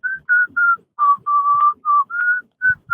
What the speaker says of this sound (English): He's whistling while he works.